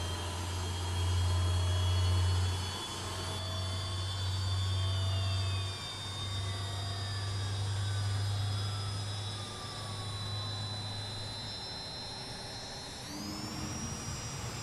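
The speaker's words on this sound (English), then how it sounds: "we'll get that engine start. From the outside, sounds are superb." Engine start of the JustFlight Hawk jet trainer in the MSFS flight simulator, heard from outside: a steady rising whine with a falling tone sweep over a low rumble, ending in a sharp upward spool of pitch.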